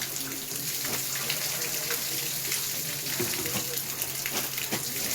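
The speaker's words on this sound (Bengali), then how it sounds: "দেখুন কখন দিয়ে খুলেই রয়েছে কল থেকে জল পড়েই যাচ্ছে।" Water runs steadily from a tap left open, a continuous close splashing hiss over a low background hum, with no pause through the stretch.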